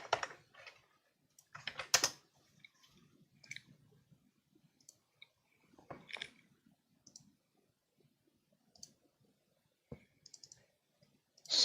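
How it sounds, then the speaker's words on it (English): Computer keyboard typing and mouse clicking come in scattered bursts of sharp clicks with quiet gaps between, close up and fairly soft. "So much clicking."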